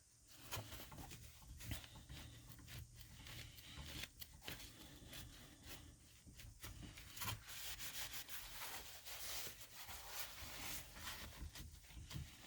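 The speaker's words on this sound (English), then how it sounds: "I'm just going to kind of try to tap it down and pick up some of the excess off of the tops of the drills" Sealant is tapped and rubbed onto the drills of a diamond painting, giving soft, close, continuous scratchy rubbing with small irregular taps, faint and steady throughout.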